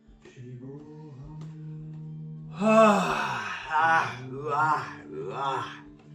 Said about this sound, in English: I'm breathing through the mouth.